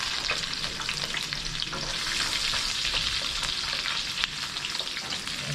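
Adobong kangkong sautés in a pan with a steady hiss of hot oil and sizzling, broken by soft scraping stir strokes throughout, with no talking.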